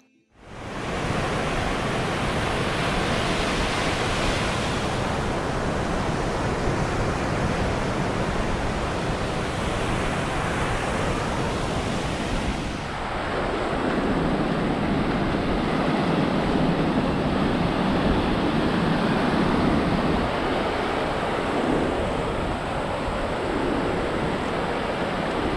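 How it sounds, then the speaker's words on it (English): Continuous roar of ocean surf at Crescent Beach on Siesta Key washes over everything, a broad steady rush with a swell midway, loud and close, no voices. "just hear the ocean without any interruptions like this."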